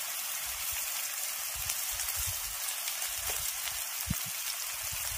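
Ground chili powder and other spices frying in a pan for masala pasta, a continuous close crackling sizzle with a few soft low knocks underneath.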